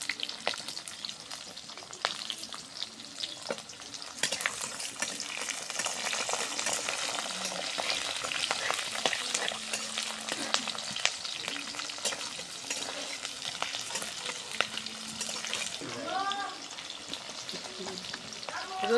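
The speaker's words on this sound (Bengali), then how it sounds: "কাঁচা জিরা দিয়ে দিলাম, কাঁচামরিচ, পেঁয়াজ, মোটা মোটা করে পেঁয়াজ দিচ্ছি।" Onions with cumin and green chillies frying in a pan, a dense continuous sizzle close by with occasional stirring scrapes and a brief clink near the end.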